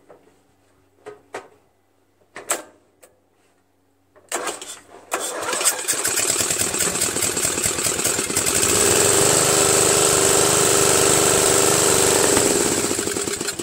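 A Briggs & Stratton flathead engine on a 13.5 HP Murray Select 40-inch riding mower cranks in a few short bursts, then catches and roars up to a loud, steady run.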